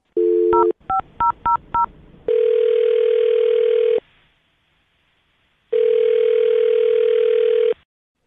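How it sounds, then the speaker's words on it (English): A landline telephone emits a quick run of touch-tone dialing beeps, then long steady ringback tones separated by a pause, loud and close with no talking. "I'm going to dial his phone number right now."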